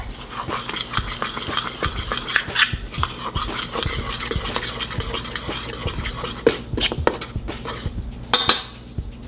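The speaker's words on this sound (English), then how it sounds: "mix that together while they're dry" Dry ingredients for hamburger buns, including salt, are mixed in a bowl, making repeated close scraping and clinking strokes in an uneven rhythm with no talk.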